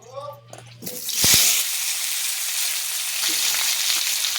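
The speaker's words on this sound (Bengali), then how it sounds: "আলুগুলো লাল করে ভেজে নেব" Potatoes drop into hot oil and erupt into a loud, steady sizzle that continues throughout, after a moment of brief talking at the start.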